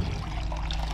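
Water pours steadily into a cooking pot in a home kitchen, a continuous splashing rush with no break for the whole second.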